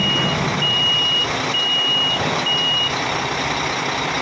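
A repeating electronic reversing beep sounds in steady on-off pulses over a loud, rumbling engine of a 2023 HOWO NX 400-horsepower dump truck nearby, its dump box lowering.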